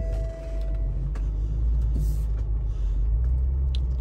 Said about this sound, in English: So I'm gonna exit and let's start the vehicle.